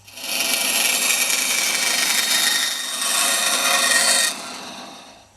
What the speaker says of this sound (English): So there's the slot. It does need filing.